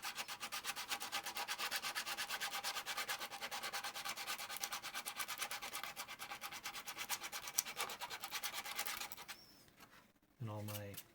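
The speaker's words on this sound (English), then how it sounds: "for 3D printing, always start with the 80 grit, then move to the" Sandpaper rubbed back and forth over a 3D printed plastic prop part, a steady, fast rasping scrape repeating evenly for about nine seconds, close and fairly loud, then stopping briefly before a short handling noise.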